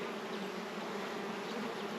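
Honey bees drone steadily around an open hive, a dense, continuous buzz that stays close and even throughout with no voices.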